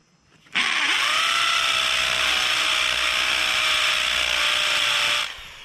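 Walter Matibo hammer drill boring a hole into an IBC tote, starting abruptly and running at a steady, loud, buzzing whine for about five seconds before stopping.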